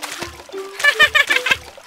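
Cartoon puddle splashes as an animated animal jumps into water, a few quick splatters under a playful, high-pitched voice.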